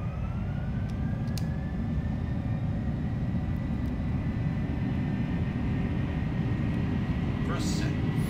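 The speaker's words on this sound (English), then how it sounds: "We've been cleared for takeoff, let's go." A PMDG MD-11 airliner rolls down the runway for takeoff in a flight simulator game, a steady loud engine roar with rising whine throughout and a brief higher sound near the end.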